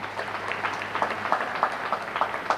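An audience at an investors conference applauds, a steady rattle of many hands clapping at moderate volume from across a hall, with no voices over it.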